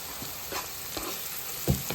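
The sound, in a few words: onions frying in a pan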